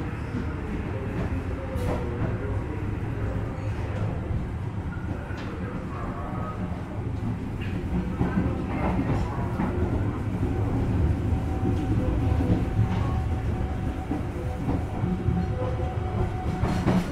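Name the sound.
passenger train running on rails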